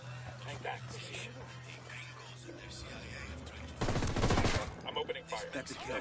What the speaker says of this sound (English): Must have heard the gunshot.